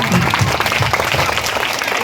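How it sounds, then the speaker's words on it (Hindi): Audience applause at a school award ceremony for teachers, a dense steady clapping from a crowd sustained throughout, loud and close with no voices over it. "जोरदार तालियां"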